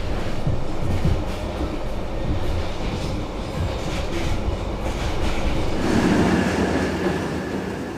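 A passenger train pulls into a station in Vietnam, a steady loud rumble of wheels and carriages with clattering and rolling noise throughout, swelling slightly near the end as it slows.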